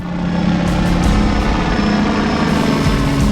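Steady, loud rotor and engine drone of a helicopter flying an aerial radiation survey, continuous throughout with a constant low hum and no voices.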